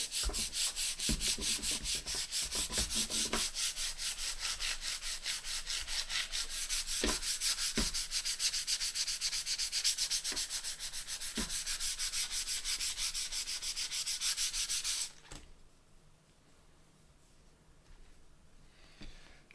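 Continuous rhythmic sanding strokes rub through lacquer on a guitar, close and steady for about fifteen seconds before dropping to a quieter, fainter rubbing.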